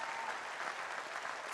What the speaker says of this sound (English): give my campus a big round of applause for that